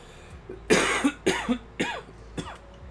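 Four sharp coughs close to the microphone, the first two heavy and the later ones lighter, spaced about half a second apart.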